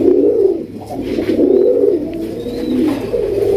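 Raj Golla pigeons coo loudly and close by in repeated rolling calls, one overlapping another almost without pause.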